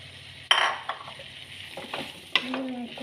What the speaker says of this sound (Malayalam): ഇനി അതിലേക്ക് മാങ്ങ ഇട്ട് ഇളക്കി കൊടുക്കുന്നു.